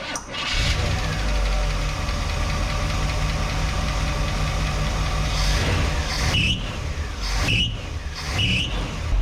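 A 1961 car engine fires up after a valve cover job and settles into a loud, close idle with a rough, knocking rhythm and a persistent faint noise, with some brief bursts near the end.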